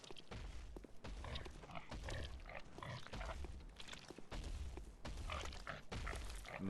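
A pig enemy in the video game Bloodborne grunting and snorting in rough repeated bursts, fairly close, mixed with thuds from combat.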